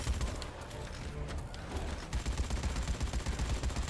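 Rapid bursts of gunfire in the video game Dead Rising 4, a dense rattling fusillade of shots under a noisy background, continuing steadily and moderately loud.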